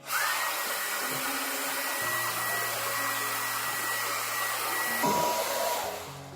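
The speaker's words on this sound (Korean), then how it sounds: "드라이기를 우리가 집에서 머리를 말릴 때" A hair dryer blows steadily while drying hair on a person with hair loss, a loud continuous whooshing drone with small shifts in pitch as the airflow is moved, with no talking.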